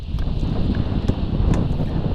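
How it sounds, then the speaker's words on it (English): Strong wind buffets a GoPro camera microphone outdoors on a windy day, a steady loud rumbling roar with a few sharper gusts and clicks and no voices. "I'm hoping the wind sounds better here because I have some new modifications to the GoPros. It is quite windy today"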